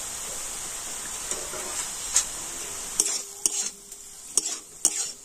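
Beetroot and carrot with salt and turmeric are stirred in a hot pan for vegetable chops: a soft sizzle under sharp, close spatula scrapes and taps that come in spaced strokes, no voices.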